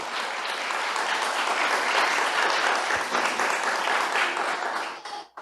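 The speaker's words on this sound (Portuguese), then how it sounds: "Convido você a aplaudir porque é para você essa palavra." A church congregation applauds after a sermon reading. Thick, continuous clapping fills the room at an even loudness for about five seconds, then cuts off abruptly.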